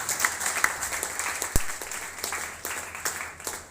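Applause from an audience for a national team coordinator, a dense patter of many hands clapping at a steady level. One sharp thump sounds partway through.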